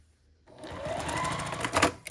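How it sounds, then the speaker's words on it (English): A sewing machine stitches quilt block seams, starting after a short silence and running steadily and close for about a second and a half, with a brief louder surge near the end and no talking. "after you sew them one way, you can open them up and sew them the other way"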